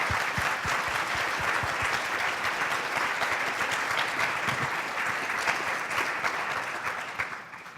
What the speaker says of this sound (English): So can we give all of the sponsors a big round of applause?